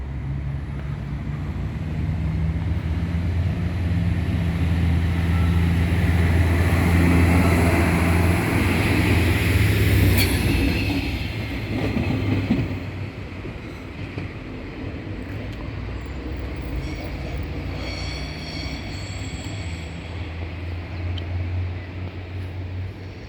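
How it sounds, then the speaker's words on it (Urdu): Two trains pass each other in opposite directions on a cold day in Pakistan, a steady, heavy rumble that swells over the first half and then eases to a softer, continuous drone, with no speech. "ابھی آپ ایک ٹرین ادھر جا رہی ہے، ایک ادھر آ رہی ہے"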